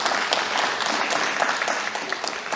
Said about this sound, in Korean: 우리 박수로 한번 격려하겠습니다